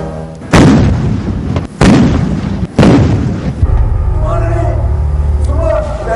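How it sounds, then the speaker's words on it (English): Artillery guns fire a 21-gun salute at a state ceremony for a President, three heavy booms spaced about a second apart ringing out loud and close, followed by a softer rumbling tail with faint distant sounds. "A 21-gun salute was also observed."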